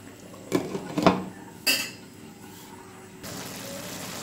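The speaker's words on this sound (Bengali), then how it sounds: "তো আমি এই যে একটু ঢাকনাটা উঠিয়ে নিলাম" A metal lid is lifted off a pot of chola pulao with a few clanks and scrapes, then a brief rattle, followed by a steady low hiss from the pot. No one speaks.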